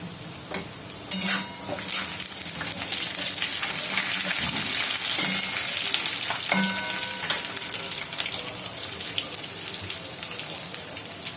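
Green chillies and vegetables such as pumpkin sizzle in a pan for sambar, with repeated scraping and clinking stirring strokes over a steady frying hiss, close and without talk.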